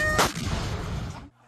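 A deafening airstrike blast in Gaza erupts loud and close at the start, then a dense rumbling roar lingers for about a second before cutting off abruptly.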